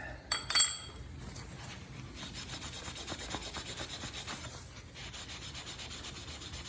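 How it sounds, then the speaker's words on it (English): Copper pipe end scrubbed with a Scotch-Brite pad: a sharp clink at first, then rapid rhythmic back-and-forth rasping strokes, close and clear, briefly pausing before resuming. "we're gonna clean both ends of the pipe. Today we're using a Scotch-Brite pad."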